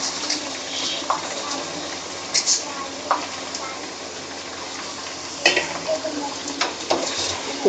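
Chicken pieces fry with garlic and ginger in a pot, a steady sizzle broken by repeated scraping and clanking as a utensil stirs them, close and fairly loud throughout.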